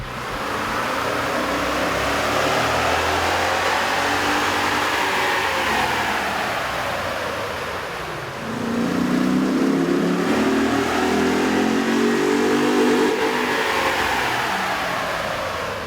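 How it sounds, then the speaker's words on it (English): A Toyota Tundra 5.7L V8 with its stock intake revs on a dyno, the engine note swelling and falling, then climbing into a second, stronger rev that holds before easing off. "With the stock intake installed, we ran the vehicle on the dyno to test the sound comparison versus the stock intake."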